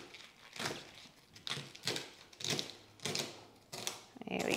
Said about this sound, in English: So I kind of roll this up and just chop it like this.